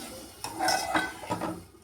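A spoon stirs shrimp curry gravy in a metal pot after water has been added, giving a few close scraping clinks and clatters against the pot in quick succession.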